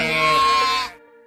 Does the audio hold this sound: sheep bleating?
yes